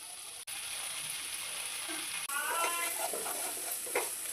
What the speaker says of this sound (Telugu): ఈ ఆయిల్లో ఉండి ఈ పేస్ట్ బాగా వేగాలండి